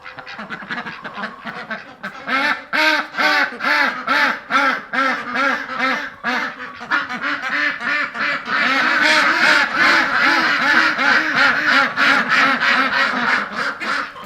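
Ducks kept indoors with chickens quack loudly and repeatedly nearby, a noisy flock whose calls overlap into a continuous raucous chorus with no talking.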